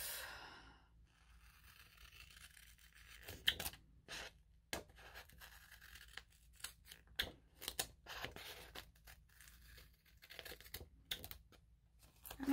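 Paper being cut for a planner, with a run of short, close, crisp snips and rustles at an irregular pace over a quiet room hum.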